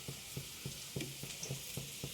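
Egg with black pepper and spices stirred in a frying pan, a quiet, even series of rhythmic scraping strokes, about four per second, over a soft background hiss, with no voices.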